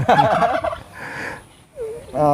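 A turkey gobbles loudly up close, a rapid warbling burst, followed by quieter calls and another gobble starting at the end.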